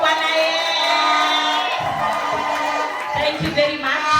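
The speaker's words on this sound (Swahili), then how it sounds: "Shangwe na vigelegele kwa Bwana Yesu." A church congregation cheers and ululates in praise, a dense wall of high trilling voices and shouts up close, fading slightly into scattered whoops toward the end.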